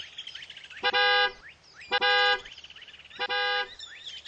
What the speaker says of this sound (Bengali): horn বাজাইয়ে driver G,